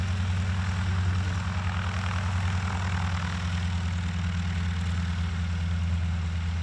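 Vintage warbird biplane, a Stearman N2S-3 or PT-17, passing by at an airshow with a steady radial-engine and propeller drone, loud and continuous.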